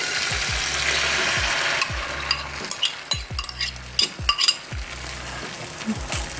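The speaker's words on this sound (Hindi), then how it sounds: "अब हम डाल देंगे इसमें अंडा।" Egg poured into a frying pan of hot oil, making a steady sizzle that fades as stirring and scraping of a utensil against the pan takes over in short, uneven strokes.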